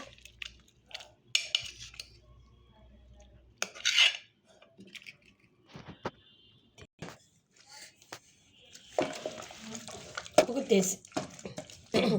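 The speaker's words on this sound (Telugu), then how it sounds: "ఇట్లా పప్పు గుత్తి తీసేసి మెదిపేసుకుంటున్నానండి." Gongura chutney with onions being mashed using a dal masher in a pot, with intermittent squelching presses and clinks of metal on the vessel between quiet stretches.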